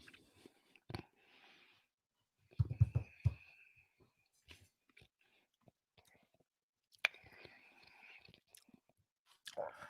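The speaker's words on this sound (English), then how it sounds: "Chewing takes forever." Someone chews hot gummy bears up close, producing soft, sticky mouth clicks and smacks in sporadic bursts with quiet gaps, plus faint breathy whispers.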